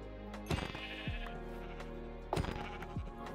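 Two wavering sheep bleats sound in a video game, one after another, each with a quick stuttering onset and a fall in pitch, over a steady low hum.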